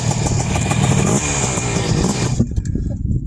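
A Honda TRX250R quad being ridden, its two-stroke engine buzzing loud and close in a continuous high-revving burst that cuts off sharply after about two and a half seconds.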